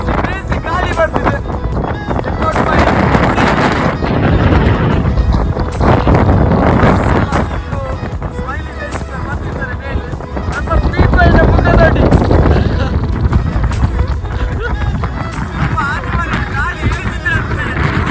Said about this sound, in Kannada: ಕ್ಲೌಡ್ ಮಿಡಲಲ್ಲಿ ಜೋರಾದ ಗಾಳಿ, ಹನಿ ಮಳೆ